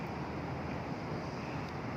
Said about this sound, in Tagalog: malamig yung simoy ng hangin